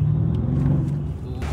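A car engine rumbles low and steady from inside the cabin during a test drive, moderately loud, with brief faint voices in the background.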